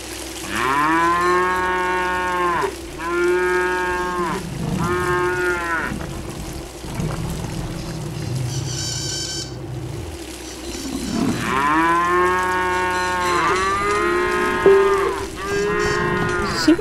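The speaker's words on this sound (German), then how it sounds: "Wieso sieht man die Kuh nicht?" Cows moo repeatedly in the video game Wildlife Park 2, long drawn-out lowing calls coming in two clusters of three with a quieter stretch between them, loud and close, with no talk over them.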